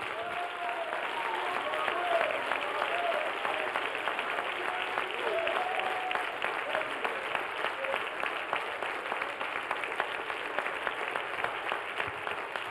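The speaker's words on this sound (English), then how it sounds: "give the Lord about a 30-second thunderous round of applause" Church congregation giving a long, sustained round of applause during a sermon, dense steady clapping from many hands heard at a moderate distance, with occasional voices calling out beneath it throughout.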